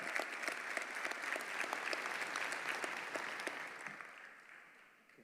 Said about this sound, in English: Let's give all the athletes a round of applause.